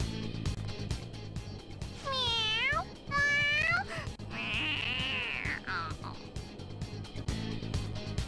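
A cat in the Persona 5 video game lets out several drawn-out, wavering meows, two rising-falling calls then a longer whiny one, over a steady game music bed and faint talk.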